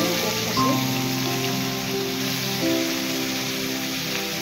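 Hilsa fish frying in hot oil, giving a steady hiss and crackle like rain on a surface, with a low hum under it and no voices.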